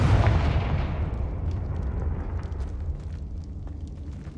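A Confringo fire spell explodes in the Hogwarts Legacy video game, a loud booming burst at the start whose rumbling roar decays over several seconds with scattered crackles, no voices.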